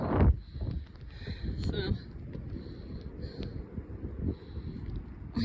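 Blustery blizzard wind rumbles and buffets the microphone in low gusts, easing slightly over a few seconds, while a person speaks a brief word.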